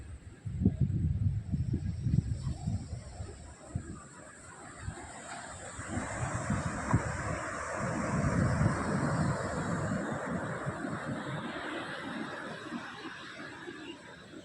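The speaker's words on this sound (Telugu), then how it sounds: "సార్ చీరాల ఏరియా వాటర్ సమీపంలో ఉన్న బీచ్ అండి." Ocean waves wash in at a beach near Chirala and Vadarevu, a broad rushing surge that builds and fades, heavily buffeted by wind noise on the microphone, with no talking.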